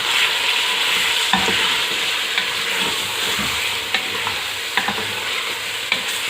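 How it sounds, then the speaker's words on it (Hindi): Ginger garlic paste, about a tablespoon, sizzles and fries steadily in a pan while being stirred, with occasional soft scrape clicks of the spoon against the pan; no talking. "और साथ ही अदरक लहसुन का पेस्ट तकरीबन 1 टेबलस्पून भर के।"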